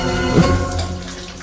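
Shower water running steadily in a bathroom, a soft continuous hiss and patter with no one speaking.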